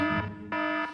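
An alarm rings in a drama scene set at the Çadır Köşkü pavilion in Istanbul. It is a steady, loud, buzzing electronic tone that pulses twice in quick succession, close and unaccompanied by talk.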